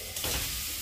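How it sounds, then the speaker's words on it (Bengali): Leafy greens (saag) frying in a wok in a home kitchen give a steady close sizzle with a light stirring scrape, brief and even throughout. "শাক এদিকে এই যে কড়াইয়ের মধ্যে এখনো ভাজা হচ্ছে।"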